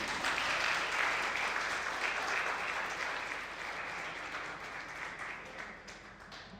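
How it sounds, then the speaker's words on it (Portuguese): A church congregation applauds together in a dense, sustained wash of clapping that stays loud at first and slowly thins out over several seconds. "Aplauda o Senhor."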